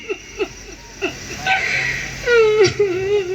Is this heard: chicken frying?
no